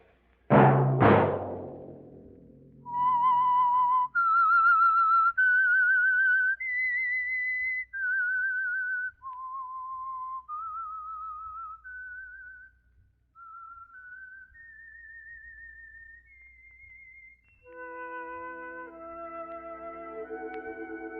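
The whistled signature tune of the 1947 radio mystery program The Whistler: a sharp loud hit opens, then a solo whistled melody rises and falls in clear sustained notes before instruments enter at the end.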